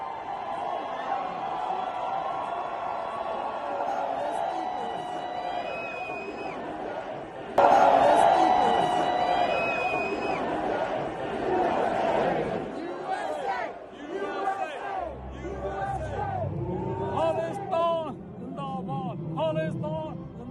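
A large crowd at the Liberty Ball chants and shouts in a loud rolling roar that surges sharply halfway through, with a voice speaking over the later part.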